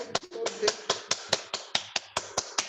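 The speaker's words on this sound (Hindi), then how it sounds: "ताली बजाओ जोर से" A group claps hands hard and fast during a guided reiki meditation session, with about a dozen sharp, evenly spaced claps in quick succession and some faint sound beneath them.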